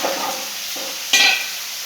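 Vegetables fry in hot oil in a pan, a steady close sizzle with brief stirring scrapes and a sharper burst of crackling partway through.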